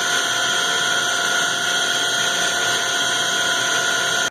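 A Hwacheon Sirius-U CNC machine's spindle spins steadily at 4,000 RPM, giving a constant, close, high-pitched whine with layered tonal hum and no other sounds.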